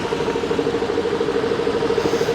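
A trawler's engine running on a tidal river while the boat rolls in a crosswind: a steady, close mid-pitched drone with a rapid even throb, continuous and without talk.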